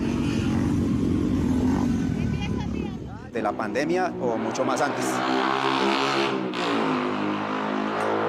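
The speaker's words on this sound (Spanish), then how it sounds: "Lo pueden escuchar como suenan estas motos" Motorcycles on a noisy neighborhood street in a Colombian barrio pass close by, an engine swelling and revving loudly, while someone speaks over the first part.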